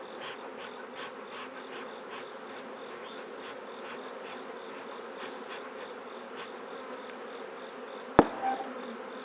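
Honey bees swarm a packed, open bottom hive box in an apiary, a steady close drone of many wings humming evenly throughout, broken by one sharp knock near the end.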